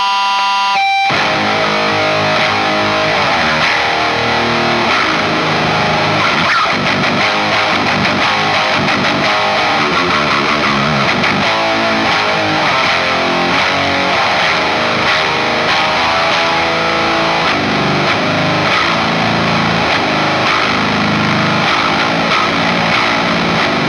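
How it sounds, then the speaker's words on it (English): An electric guitar played through a Total Distortion Worship pedal fed by an HM6 pedal, giving a thick, saturated, heavily overdriven tone with strummed chords and riffs ringing loud and continuous throughout. "So we're running the HM6 into the Total Distortion Worship."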